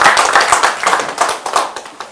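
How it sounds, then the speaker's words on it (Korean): Lively clapping from a group, a dense patter of hand claps rising and falling in bursts, close and fairly loud. "먼저 뜨거운 이렇게 박수 한번 이렇게 하겠습니다"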